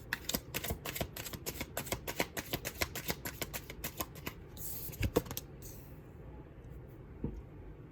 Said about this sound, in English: I feel like we need to shuffle one more time.